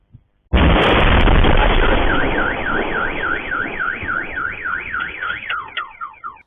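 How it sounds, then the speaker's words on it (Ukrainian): A sudden loud blast during night shelling of Nikopol is followed by a long, wailing car alarm. The alarm warbles steadily over a dense, roaring wash of noise for several seconds before it fades. "О пів на дванадцяту ночі це Нікополь жахливі, проте вже звичні для жителів звуки вибухів накривають цілий район."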